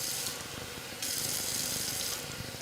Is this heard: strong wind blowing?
no